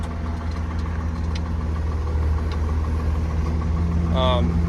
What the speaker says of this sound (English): When the tractor's just sitting idling, you need to make sure you have that engaged